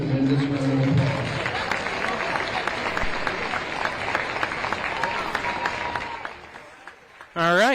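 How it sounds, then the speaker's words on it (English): Sustained crowd applause for seniors at a high school boys basketball game in a gym, a dense even roar of clapping that gradually fades out before a voice begins speaking at the very end. "Could we please give all these seniors a tremendous round of applause?"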